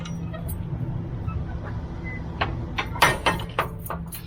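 Metal doors of a truck trailer are swung shut, a low rumbling background giving way to a few clanks and latching knocks near the end, fairly close.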